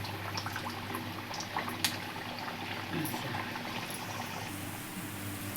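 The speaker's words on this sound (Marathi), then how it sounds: "आता याच्यामध्ये एक एक वडा तळून घेऊ." Semolina medu vadas frying a few at a time in hot oil, a soft continuous bubbling sizzle with faint crackles, steady throughout and heard without speech.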